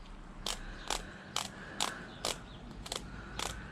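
A torque wrench being adjusted for work on a WR250R motorcycle gives about eight crisp, evenly spaced ratcheting clicks, close up and alone against a quiet background.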